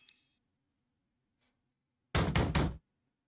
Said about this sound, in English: a loud banging on the door